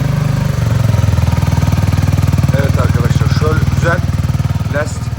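A Voge R125, a 125cc water-cooled motorcycle, idles with a steady, rapid, loud engine pulse that continues throughout, while someone talks over it.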